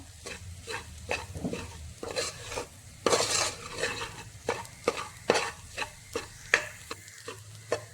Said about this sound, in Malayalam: എന്നിട്ട് ഇതെല്ലാം കൂടി ഒന്നുകൂടി ഇളക്കി കൊടുക്കാം.